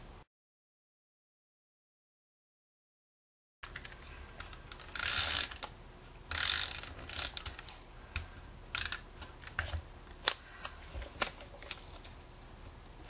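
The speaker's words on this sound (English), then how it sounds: "tape runner to adhere this down" Tape runner pressing adhesive onto paper for card making, heard after a stretch of silence as short scraping rolls and clicky mechanical bursts, close and fairly quiet, with small handling taps between them.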